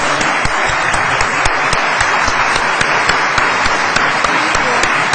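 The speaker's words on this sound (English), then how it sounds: "So one more round of applause for Tipper Gore." Dense, sustained applause from a large convention audience, loud and steady throughout, with scattered sharper claps standing out from the wash.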